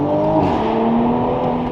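A Toyota Supra with an FI exhaust revs and drones loudly at close range, the exhaust note rising and holding steady throughout.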